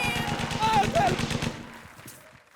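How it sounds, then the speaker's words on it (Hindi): Rapid bursts of gunfire rattle in a fast rhythm alongside a voice, then stop and leave a quieter tail. "गोलियां चलाते हो"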